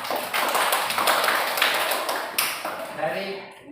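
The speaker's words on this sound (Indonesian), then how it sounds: "Kasih tepuk tangan Saukil." Schoolchildren in a fourth-grade Indonesian-language class clap for a classmate. The applause is dense and sustained, with quick overlapping hand claps close by, and it fades out toward the end.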